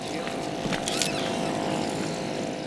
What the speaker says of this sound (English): The outboard motor is no stranger to the Curragh.